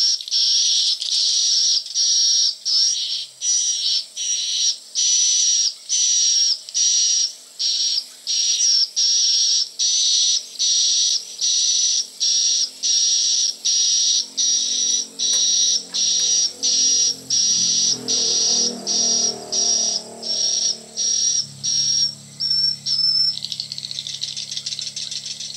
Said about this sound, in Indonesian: ini suara piyiknya ya.